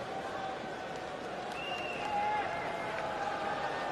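At the start of a T20 cricket match between a World XI and the West Indies, a stadium crowd's steady roar and cheering swells louder partway through, with voices blended into the wash.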